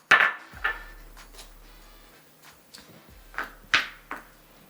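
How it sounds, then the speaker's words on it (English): A chopping knife cuts basil and spinach on a cutting board in a kitchen, with a handful of sharp, separate knocks spaced irregularly, close and clear against a quiet background. "So with just a chopping knife, you just want to chop these up."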